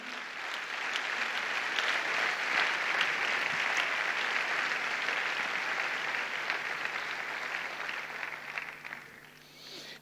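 Steady, dense applause from a congregation during a church sermon, sustained and fairly loud throughout, tapering slightly near the end.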